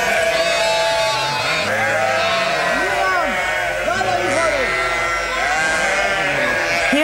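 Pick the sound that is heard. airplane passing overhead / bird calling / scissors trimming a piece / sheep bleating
sheep bleating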